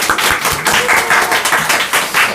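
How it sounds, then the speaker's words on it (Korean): A church congregation claps together after an infant baptism at a Christmas thanksgiving service, a dense, lively patter of many hands that stays close and steady for a couple of seconds. "박수로 축하하겠습니다."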